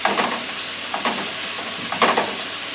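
Pineapple chunks hit a hot pan of teriyaki chicken stir fry, giving a steady sizzle with about three louder bursts of stirring and frying roughly a second apart, close and alone with no talk.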